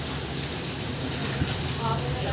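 Light rain easing off over a home, a steady close hiss of drops that fills the short moment without a break.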